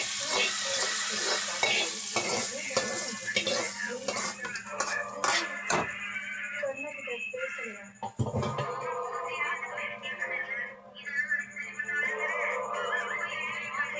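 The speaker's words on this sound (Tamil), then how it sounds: "தாளிச்சதை இதில் ஊற்றிக்கலாம்." Hot tempering is poured into brinjal sambar in a pot, setting off a crackling sizzle with spoon stirring and clinks of cookware, and a few soft kitchen knocks along the way.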